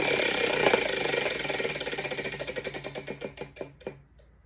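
A prize wheel spun by hand, starting as a fast blur of clicks that spaces out into slower, distinct ticks and stops after about four seconds; close and clear, no talking.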